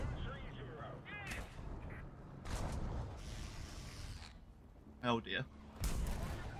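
War Thunder bomb detonations from a Sturmtiger session: several loud, broad booms and blasts spread across the clip, mixed with other game noise, with someone talking over them and a brief spoken exclamation.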